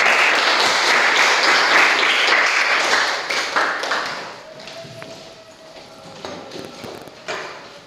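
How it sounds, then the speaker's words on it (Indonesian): Classroom of students applauding together during a mathematics lesson, a dense burst of clapping for about four seconds that fades into scattered claps and quieter room sounds. "Beri tepuk tangan."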